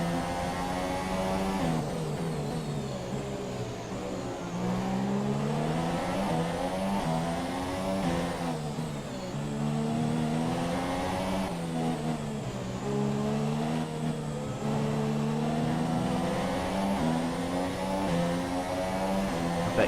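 Formula 1 race car engines in the F1 2017 video game on the Baku circuit, a loud high-pitched whine rising and falling through repeated gear changes and revving, close and continuous.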